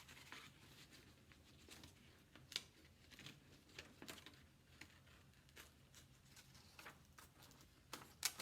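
Scissors snip through a paper plate to cut out a UFO craft drawing, a run of quiet, irregular crisp cuts and paper rustles close by with no talking.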